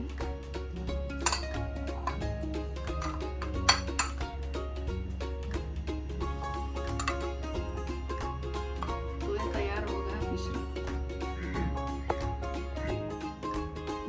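A spoon clinks repeatedly against a bowl while pepper and black pepper powder are mixed in for a bread pizza, the light metallic taps in an irregular rhythm over a low steady hum, with a few louder knocks.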